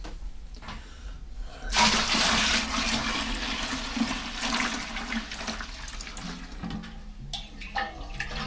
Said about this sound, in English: Time to dump in the wort.